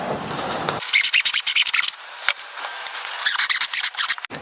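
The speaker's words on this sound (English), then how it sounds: "And then just cut it with your hacksaw." A hacksaw cuts through a foam pool noodle, giving a run of quick rasping, scratchy strokes in uneven bursts, close and fairly loud, with short pauses between strokes and no talking.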